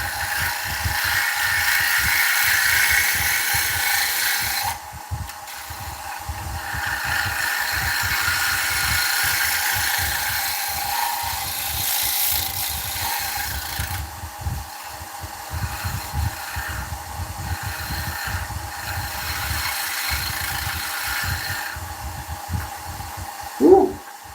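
Wood lathe turning an oak platter at over 1,000 revs, a steady low mechanical whir and rumble running throughout with shifts in tone as the tool engages, ending with a brief louder burst.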